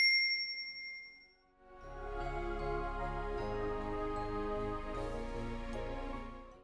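A bright notification bell chimes once, rings out and fades. A sustained, warm, layered musical tone then swells in and holds steady, with no voices.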